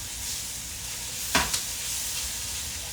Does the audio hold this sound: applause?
no